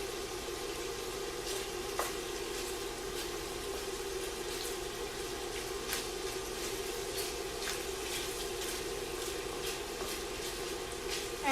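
Meat pieces brown in a hot pan with a steady, dense sizzle and frying crackle, while occasional scrapes and light knocks of a stirring utensil break through. No one speaks.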